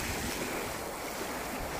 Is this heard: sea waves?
yes